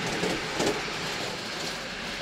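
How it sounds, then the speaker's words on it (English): A 9F locomotive runs on the miniature railway at Midland Railway Butterley, giving a steady, fairly loud rumble and rush of wheels and motion with a couple of brief louder knocks and no talk. "I think the loco they've got running is also a 9F"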